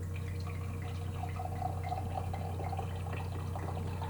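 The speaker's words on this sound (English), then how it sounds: "Pour myself a glass." Pinot Grigio wine poured from a large bottle into a glass, a faint, steady trickle over a low background hum, no voices.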